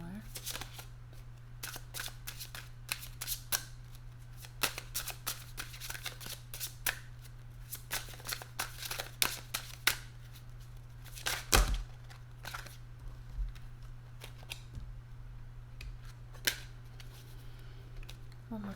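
Tarot cards being shuffled by hand, giving repeated soft riffling and rustling bursts over a steady low hum, close and fairly quiet.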